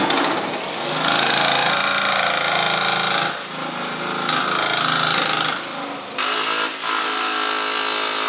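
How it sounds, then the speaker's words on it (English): A Milwaukee jigsaw cuts a window opening in the metal side of a Mercedes Sprinter van, giving a loud, harsh, continuous buzzing rasp with brief dips in intensity as the blade moves. "It doesn't have to be a Milwaukee one like this. Any jigsaw will work for this"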